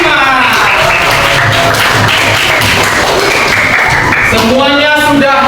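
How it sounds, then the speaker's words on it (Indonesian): Classroom of students applauding a student group, loud, dense clapping throughout, with voices talking and calling out over it. "tepuk tangan untuk kelompok 5"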